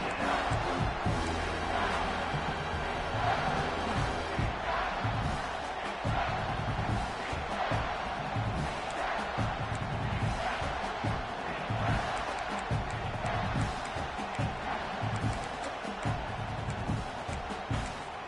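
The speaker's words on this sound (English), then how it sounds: "the crowd coming to life here, trying to help this defense down in the red zone" Stadium crowd noise in an American college football video game, Michigan versus Oklahoma, a steady loud roar of cheering that swells under the play with no talk.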